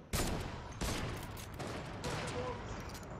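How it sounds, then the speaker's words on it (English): Gunfire in a Fortnite match: several sharp shots crack in quick succession at moderate loudness, layered over busy game noise without clear talking. "He's shooting at me, bro."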